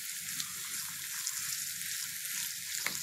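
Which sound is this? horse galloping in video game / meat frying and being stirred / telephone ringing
meat frying and being stirred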